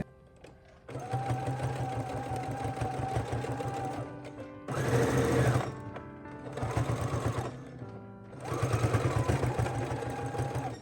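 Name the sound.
sewing machine stitching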